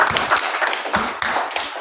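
Children in a classroom applaud with a ragged burst of clapping that comes in several uneven waves, close and moderately loud.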